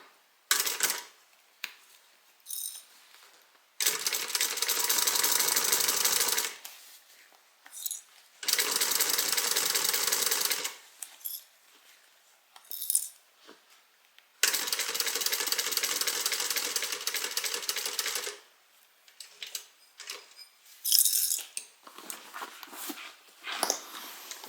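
Sewing machine stitching down the side seam of a Vespera bag, running loud and close in three long steady bursts with short pauses and handling sounds between them.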